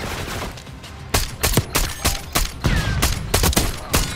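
Assault rifle fire in Call of Duty: Black Ops 6, a string of roughly ten sharp, punchy shots in uneven quick succession, loud and close, following a brief lull.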